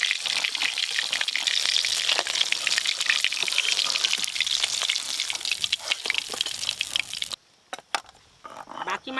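Small puti fish frying in hot oil, a dense crackling sizzle with sharp pops that runs steadily and then cuts out abruptly, leaving a few faint clicks.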